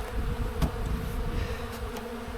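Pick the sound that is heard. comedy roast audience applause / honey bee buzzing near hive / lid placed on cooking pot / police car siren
honey bee buzzing near hive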